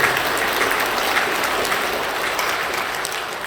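Congregation applause fills a church sanctuary at Incheon Full Gospel Church's 39th anniversary service: dense, steady clapping from many hands, sustained and even throughout without any voices.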